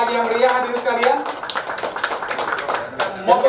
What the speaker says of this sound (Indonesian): kita berikan tepuk tangan lagi yang meriah hadir sekalian